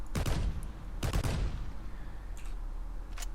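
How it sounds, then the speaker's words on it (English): Gunfire in the video game Shattered Skies: two loud bursts of rapid shots about a second apart, then fainter distant shots, with no talking. "The gun sounds are not, my personal preference on these sorts of things"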